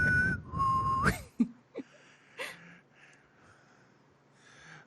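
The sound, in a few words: whistling the tune from Hunger Games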